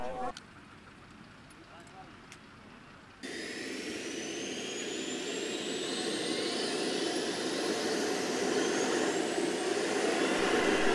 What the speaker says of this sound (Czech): Vrtulník vzlétl a několikrát předvedl plnění vaku a jeho vypuštění.